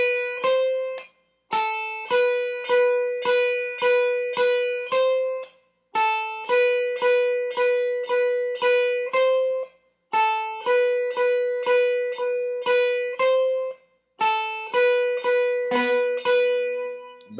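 Beginner lead guitar phrase played four times in a row, clean plucked notes ringing in a steady repeated pattern, each pass separated by a short gap.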